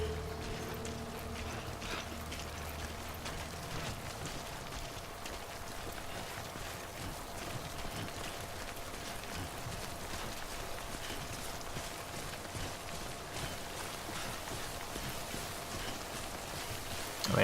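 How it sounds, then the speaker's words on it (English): Rain falling in the video game Death Stranding, a faint, steady hiss of drops with a low background hum running evenly throughout, no voices. "Oh, is it raining again?"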